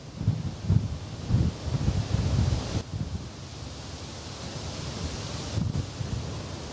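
Wind gusts outdoors at a tower, a broad rushing roar buffeting the microphone, strongest early on and then easing to a steady breathy hiss, with no voices.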